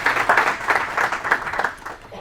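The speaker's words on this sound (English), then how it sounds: "That deserves a round of applause." Audience applause at a book launch event, a short burst of clapping that swells then fades over about two seconds, close and moderately loud.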